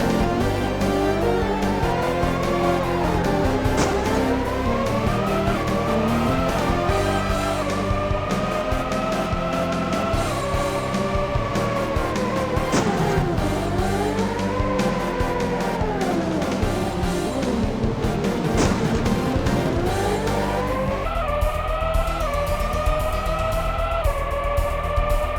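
Formula One race car engines in the Sega Saturn game F1 Challenge, a steady high-pitched whine that rises and falls through the gears, with tire squeal, continuous and loud with no talk.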